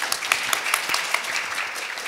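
Audience applause at a private equity investment conference panel, a steady dense clapping that fills the hall for a couple of seconds with no voices over it.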